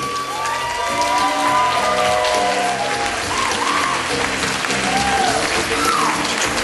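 A wedding audience applauds steadily as the mother of the bride is escorted in, a dense, continuous wash of clapping with faint voices and a whistle rising above it.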